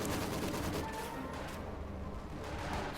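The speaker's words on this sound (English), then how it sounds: "The Jaegers may get wiped up by Maxim if it keeps firing on them." Soviet Maxim heavy machine gun firing on German Jaeger infantry in the strategy game Company of Heroes 2, a dense sustained rattle of shots amid battlefield noise, steady and fairly loud.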